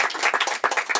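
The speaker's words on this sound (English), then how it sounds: "He deserves the applause." An audience applauds during a talk, a short brisk patter of clapping with individual hand claps audible, loud and close, no speech.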